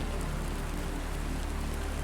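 Steady rain falls in a soft, continuous hiss across surfaces, with scattered droplet taps and no voices.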